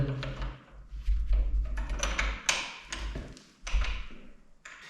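Metal hardware taps and clicks while a golden door handle rosette is fitted onto a hidden door, giving irregular knocks and scrapes with low handling thumps, close and fairly quiet.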